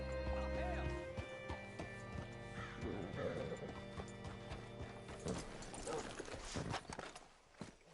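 A horse in Red Dead Redemption 2 clip-clops and whinnies close by, with hoofbeats, creaking tack and mechanical clanks under game music and a speaking voice.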